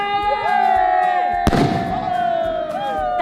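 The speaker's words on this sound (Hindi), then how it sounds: "गाइस 10 रुपए वाला स्काई शॉट लगा के आ जल्दी।" A sky shot firework bursts once, loud and sharp, in the middle of a crowded outdoor scene, with whistling tones before the blast and crackling afterward.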